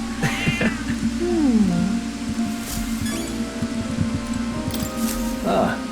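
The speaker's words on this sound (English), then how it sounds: "Hello, cat." A cat meows in the fantasy video game Metaphor: ReFantazio, a rising and falling call over steady game music with soft footsteps and faint clinks.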